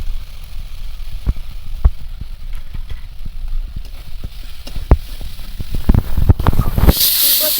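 Spice paste of ginger, melted tomato and chili powder frying in oil in a pan, giving a steady low hiss scattered with sharp crackles and pops that thicken toward the end before a brief louder burst of hiss.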